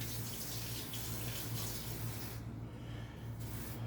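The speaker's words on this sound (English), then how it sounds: "I'm going to add in up to about 3 tablespoons of cold water" Cold water pours steadily into a thick caramel mixture for salted caramel brownies, a soft continuous splashing hiss that holds for a few seconds before briefly thinning out near the end.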